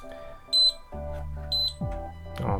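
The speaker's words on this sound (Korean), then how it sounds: "삐 소리가 나면서 약 5분간 램프가 들어오면서 살균이 되기 시작합니다" A small portable UV mask sterilizer gives two short, high electronic beeps about a second apart when its button is pressed. Soft background music plays steadily under the beeps.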